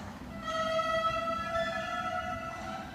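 Beginner sixth-grade band tenor saxophones holding a steady sustained note together, moderately faint over a noisy room hum.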